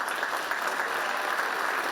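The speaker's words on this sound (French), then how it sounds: "Des applaudissements, un son qu'on n'avait plus entendu depuis longtemps dans la salle du W à Woestwiller" Audience applause fills a theatre hall, a steady, even roar of many hands clapping at moderate volume with no voices standing out.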